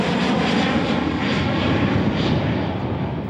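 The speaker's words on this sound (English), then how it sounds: "Captain McBride has been cleared for takeoff and is on his way to sunny Nice" An airliner taking off, a loud continuous roar of engines with a broad rushing hum that stays steady and close, with no talk over it.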